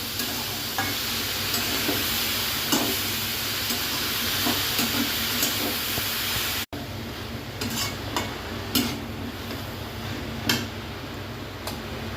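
Raw, unboiled banana flower fries in a pan, giving a steady close sizzle with occasional stirring scrapes and clicks, the sizzle briefly cut off midway and then resuming.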